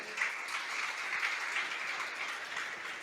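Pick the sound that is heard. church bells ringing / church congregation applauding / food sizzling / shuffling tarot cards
church congregation applauding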